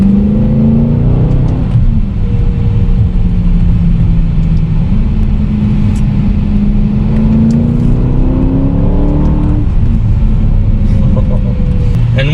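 A 2021 Aston Martin DBX SUV engine revs while driving, heard from inside as a loud, steady rumbling drone with pitch rising and falling through gear changes.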